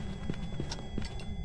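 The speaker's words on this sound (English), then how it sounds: "Did you hear this footsteps speed up?" Ghost footsteps in the horror game Phasmophobia: a steady run of dull, heavy thuds, about one every third of a second, over a dense rumbling background.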